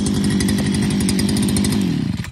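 A grass-cutting brush cutter with a pull-start engine runs steadily at high revs, a loud, close buzzing drone that holds for the whole stretch before easing slightly at the end, with no talk.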